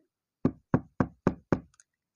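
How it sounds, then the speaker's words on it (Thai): A door is knocked five times in an even, steady rhythm, each rap sharp and close with quiet between, played as a sound effect in a spoken story. "เสียงเคาะประตูก็ดังขึ้น"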